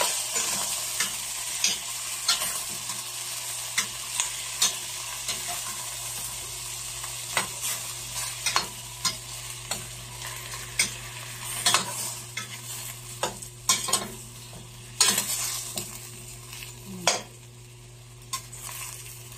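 Shrimp browns in a pan for sinigang, with a steady loud sizzle of frying under repeated scraping and stirring strokes against the pan, close and continuous with a low background hum.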